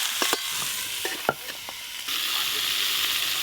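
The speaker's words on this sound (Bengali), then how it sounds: "চাপা দিয়ে দিয়ে ভালো করে ভেজে নেব।" Winter vegetables frying in hilsa fish oil, stirred and pressed down in the pan, with a steady bright sizzle and scattered scraping and clacking strokes from the spatula.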